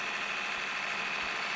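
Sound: small tractor engine in Farming Simulator 20 video game

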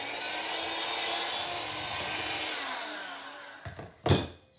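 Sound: mixing cookie dough until creamy

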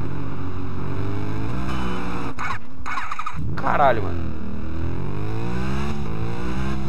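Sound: Ducati 999R motorcycle engine at speed, Test Drive Unlimited video game

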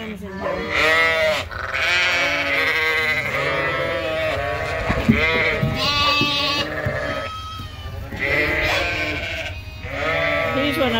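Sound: sheep and lambs bleating on a farm

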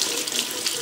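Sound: water running from a kitchen tap

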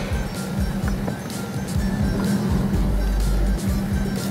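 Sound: car wheel spinning, slipping

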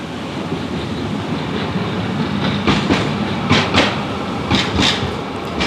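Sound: tram passing

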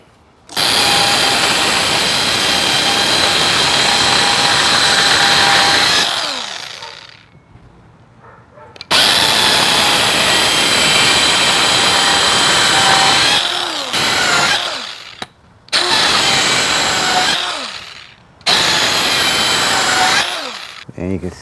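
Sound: saw making straight line cuts in wall block

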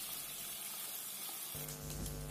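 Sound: prawns frying and sizzling in a pan

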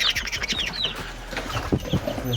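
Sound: chickens clucking in a coop

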